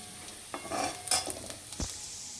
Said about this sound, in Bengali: আলু ভাজছি, আলু ভেজেছি, হয়ে এসছে আলু ভাজাটা